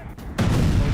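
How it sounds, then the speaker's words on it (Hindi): Explosion in Erbil, Iraq: after a brief quieter moment a loud blast erupts abruptly and keeps rumbling in a dense, heavy roar to the end. "इराक के इरबिल में धमाके"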